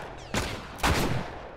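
Gunfire in The Last of Us, two sharp close gunshots about half a second apart, each followed by a short decaying tail, with no talk.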